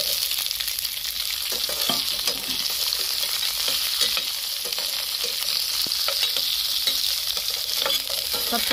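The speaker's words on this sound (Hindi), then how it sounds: "अब आमले को डाल देते हैं" Amla (Indian gooseberries) sizzling in hot mustard oil with cumin in a pan, a loud steady frying hiss with scraping stirs throughout.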